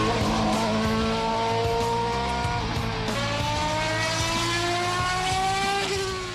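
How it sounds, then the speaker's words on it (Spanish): Twenty-two Formula 1 cars with over 850 horsepower roar away at a race start, several high-pitched engines rising in pitch through the gears, loud and close. "Los motores rugen"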